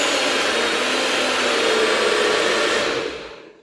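Countertop blender whirring through juice and smoothie ingredients, a loud, steady, close roar that holds for about three seconds and then winds down as the motor cuts off, with no voices.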